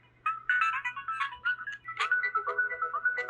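Copyright-free music playing through a homemade Bluetooth speaker built from tombstone foam, a bright melodic tune with a steady high lead line and busy upper accompaniment, fairly loud and alone with no talking.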